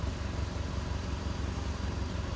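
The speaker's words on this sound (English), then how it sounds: "there is still a minor exhaust leak, but it's nothing major" An off-road Subaru idles with a minor exhaust leak, a steady low rumble with fast, faint rhythmic puffing pulses, close and moderately quiet, with no voices.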